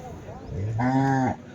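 A five-month-old calf at the Sunday cattle market in Chintamani gives one loud, close moo lasting about half a second, with a quieter, lower call just before it.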